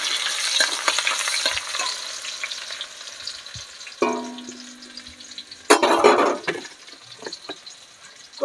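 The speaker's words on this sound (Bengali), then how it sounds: "এই দেখো 4টে রসুন দিলাম আর এই যে পেঁয়াজ, এগুলো হালকা করে একটু ভেজে নেব আমি" Garlic cloves and onion frying in a pan, with a busy sizzle and scraping stirs that fade, then two sharp bursts of fresh hissing as more goes into the hot oil, no talking.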